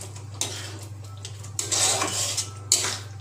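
Paneer being stirred into a thick butter masala gravy in a pan, with a few sharp scraping clinks of a spoon against metal over a quiet low hum and soft sizzle.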